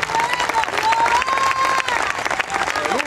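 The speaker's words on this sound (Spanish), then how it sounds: "Dale un aplauso a Cristo en esta hora." Church congregation applauding during a sermon, a sustained dense wash of clapping and crowd noise with some vocal cheering and a faint tonal whistle or hum running through it.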